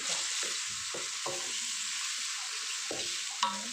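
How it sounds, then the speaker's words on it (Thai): Eggs with naem, fermented pork, get stirred in a hot pan, a steady sizzle broken by repeated scraping strokes of the utensil, close and clear with no talking. "เดี๋ยวจะใส่แหนมลงไป้วยก็คลุกให้เข้ากัน"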